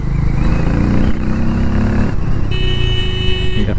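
A Harley-Davidson X440 motorcycle revs and pulls away through city traffic, its engine a loud, steady close-up drone with a shift in tone partway, buffeted by wind and with a brief horn-like tone near the end.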